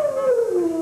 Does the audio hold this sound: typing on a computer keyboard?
no